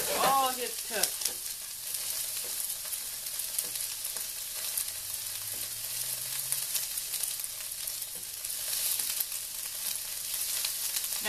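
Rice for omurice fries in a small pan, making a steady, close sizzle with scraping and stirring noises as it is turned. A brief voice is heard at the start.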